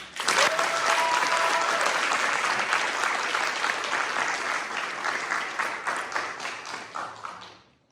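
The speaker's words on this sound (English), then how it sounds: "Please join me in a round of applause for this young man." An audience at a high school senior awards ceremony claps steadily for several seconds, a dense, loud wash of applause that fades out toward the end.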